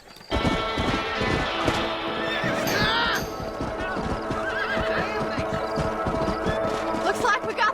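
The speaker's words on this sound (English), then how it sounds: "These are fine horses." Horses in the Red Dead Redemption video game whinny loudly and shrilly near the start, while hooves clip-clop and the herd bustles close by, with voices talking over the scene.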